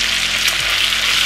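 Spätzle frying with bacon in a pan while being stirred, a loud close continuous sizzle and crackle with soft scraping from the stirring and no talking.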